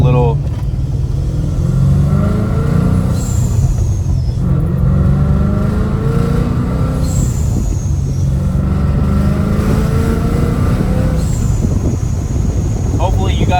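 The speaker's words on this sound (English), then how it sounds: "I honestly think this is the best sounding exhaust. It's straight piped." A loud Ford Mustang GT engine with straight-piped exhaust and supercharger growls close up, rising and falling as it accelerates through gears, with a turbo whistle, blow-off valve and wind rushing past.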